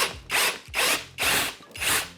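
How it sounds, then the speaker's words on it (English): A power drill whines in four short, loud bursts while drilling through a door, each rising and cutting off in a regular rhythm, close up with no voices. "I'm going to put 2 holes in here and I'm going to drill from both sides"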